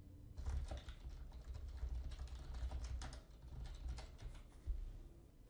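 Quiet, steady typing on a computer keyboard as an email and password are entered, a close run of light key clicks in an irregular rhythm, with no talking.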